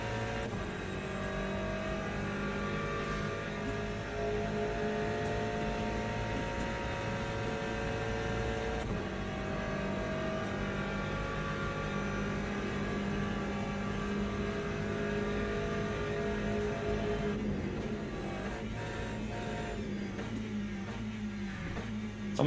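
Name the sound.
GTE race car engine in Le Mans Ultimate video game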